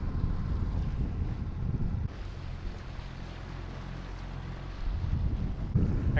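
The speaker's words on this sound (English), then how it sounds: "let's twist the throttle." A small boat's outboard motor is throttled up on open water, a steady low engine drone rising under heavy wind buffeting the microphone, with water splashing and hull noise close by.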